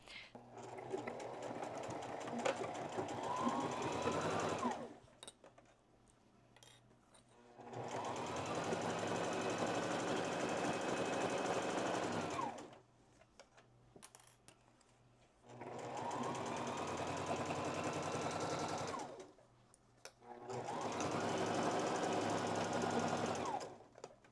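A sewing machine stitches the side seam of a shirt in four long steady bursts of fast whirring and clatter, with short quiet pauses between them, close by and with no talk.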